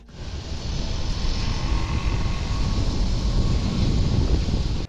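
A Chennai MRTS suburban train runs along the Beach–Velachery line, making a steady, loud rumble and rushing roar that holds constant throughout.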